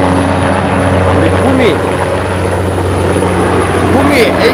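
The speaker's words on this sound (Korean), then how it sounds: "구미 또 소방헬기입니다." A firefighting helicopter on standby during wildfire support in Gunwi, Gyeongbuk, roars loud and close with steady rotor thrum and turbine whine throughout, while someone talks over it.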